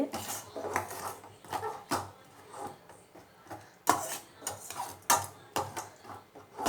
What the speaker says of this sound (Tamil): இப்போ வந்து இதை கலக்கிட்டு இங்கே பாருங்கள் அதெல்லாம் நல்லா கலக்கணும்